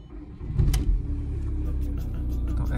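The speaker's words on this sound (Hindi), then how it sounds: "तो ऐसे ही गाड़ी स्टार्ट होती है, एंड आरपीएम इसका 900 पे रुक जाता है" A 1.9 TD diesel engine in a mk1 Skoda Octavia cranks and catches with a loud burst, then settles into a steady low idle rumble.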